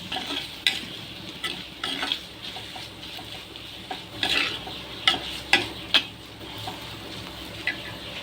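A spoon stirs crab roast masala with chili powder in a pan, giving scraping, clacking strokes in irregular bursts over a steady low sizzle, close and moderately loud with no talking.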